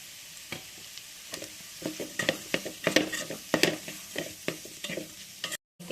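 Chicken masala stirred in a pan for soya rice, a rhythmic series of spatula scrapes and knocks over a low sizzle that builds in the middle, cutting out abruptly near the end.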